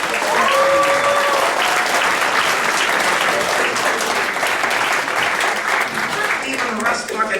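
A convention audience at TFcon 2010 claps in a loud, sustained round of applause after a script reading, a dense even roar with a brief voice heard early on.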